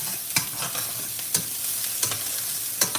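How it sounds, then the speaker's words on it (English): Fish shallow frying in oil in a pan for a Bengali fish curry, a steady close sizzle with sharp crackles and pops recurring about once a second, no one talking. "I'm going to share the clip of fish frying, shallow fish fry"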